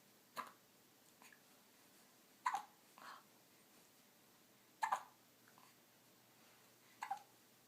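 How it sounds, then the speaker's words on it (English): A young child hiccups four times at regular intervals of about two seconds, each a sharp, brief catch of breath, close but quiet, with faint breathing between. "You have the hiccups?"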